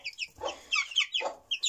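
Young chickens on a small farm, including naked-neck birds, give a string of short high clucks and peeps, close and fairly loud, in uneven bursts with brief gaps between them.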